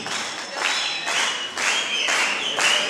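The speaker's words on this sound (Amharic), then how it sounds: "እሳቸውን ወደዚህ አጨብጭቡና" An audience at a certificate ceremony claps continuously in a dense wash of applause, swelling in a few waves, with faint voices mixed in.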